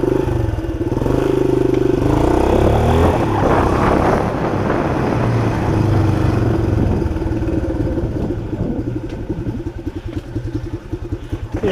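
A 1976 Honda XL175 motorcycle engine runs loud and close, revving up early then settling into a steady, rough idle with rapid pulsing throb toward the end.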